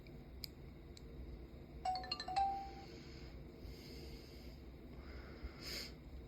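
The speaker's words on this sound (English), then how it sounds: "That's a pretty good sound for start and stop, turning on and off the recorder." A voice recorder's power-on chime of a few quick ascending tones, faint and alone over a low background hiss, followed by a soft rustle.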